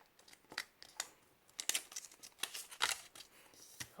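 Colored origami paper being folded into an octagonal box at close range: soft irregular crinkles, creases and rustles, quiet and intermittent, with a few sharper crisp snaps of paper.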